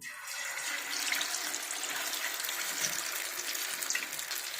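Fish pakora fry in hot oil, a steady, dense hiss and sizzle that stays even and close throughout with no voices.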